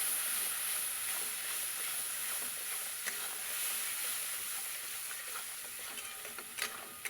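Spice paste of salt, turmeric and chilli powder fries in hot oil in a wok for a fish curry, a steady bright sizzle and hiss throughout with occasional faint scrapes of a spoon, close and continuous.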